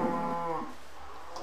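A video game cow gives one drawn-out moo with a harmonic, nasal tone. It fades after about half a second and is followed by quiet game background.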